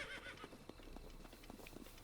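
Horse hooves clip-clop in a steady trotting rhythm in Zelda Breath of the Wild, mid-distance and moderately quiet, with a brief whinny-like tone near the start.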